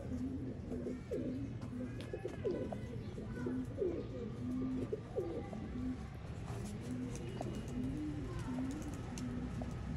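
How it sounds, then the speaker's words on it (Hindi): Ferozpuri pigeons coo in low, repeated throaty calls, several birds overlapping at a moderate distance over a faint background hum. "प्योर और नायाब हालत के फिरोजपुरी कबूतर है"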